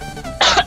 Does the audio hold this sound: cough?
yes